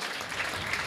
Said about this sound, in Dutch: Krijgt applaus van het publiek.